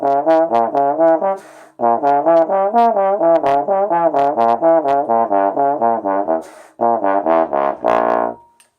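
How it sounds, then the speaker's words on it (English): A diminished arpeggio from a scale sheet, played in fast sixteenth notes on a melodic instrument, with rapid even note steps running in close, loud phrases and two brief breaths between runs. "playing the diminished arpeggio like that"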